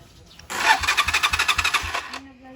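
The electric starter of a Motorstar 125 motorcycle cranks for about a second and a half, a close, rapid run of rhythmic churning pulses that starts abruptly and cuts off, with a faint hum after it.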